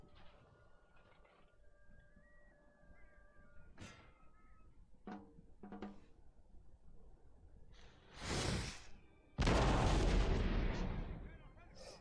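Artillery cannons firing in the game Napoleon: Total War: a muffled boom comes first, then a louder, longer roaring blast rolls out over quiet battlefield ambience and faint game tones.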